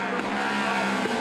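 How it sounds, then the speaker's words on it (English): A Moto Guzzi sidecar racing rig on a cemetery street circuit roars past with a loud, continuous, full-throttle engine note lasting about a second. "The Motor Guzzi rig has always had the speed advantage"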